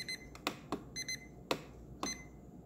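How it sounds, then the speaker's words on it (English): An ORIA wireless fridge thermometer alarm sounds a series of short, sharp electronic beeps in irregular pairs and singles, close and fairly quiet, with no talking. "You could turn the alarm off."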